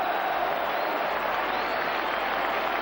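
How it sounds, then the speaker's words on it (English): Football crowd at Tynecastle during Hearts versus Celtic in 1997, a steady continuous roar of a large stadium crowd at even loudness throughout, with no commentary over it. "Now Hearts with the roar of the Tynecastle crowd behind them."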